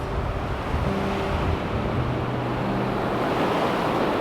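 Ocean waves wash onto a beach in a steady, rushing roar, with constant surf and wind noise filling the whole stretch and no talking.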